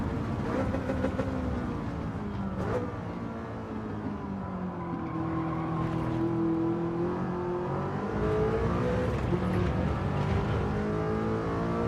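Race car engine in a racing video game time trial, a loud continuous engine drone with pitch sliding down as the car slows under braking, then climbing again, steady and close throughout.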